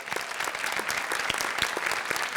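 Studio audience applause on the Sabado Gigante 911 special, a dense, steady wash of many hands clapping, moderately loud and continuous throughout, with no voices rising above it.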